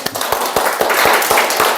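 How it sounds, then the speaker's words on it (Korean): Audience applause at a graduation ceremony: a steady, dense wash of many hands clapping together, with sharper individual claps standing out at irregular moments throughout. "그 사람을 위해서 박수 한번."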